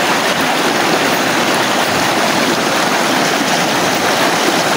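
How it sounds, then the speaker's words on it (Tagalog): Steady rushing flow of a fairly deep stream at a scenic spot in Surigao del Norte, Philippines, heard close and continuous as a broad, even gurgle with no speech over it. "Pero hindi naman ito gaano kalakasan ng tubig."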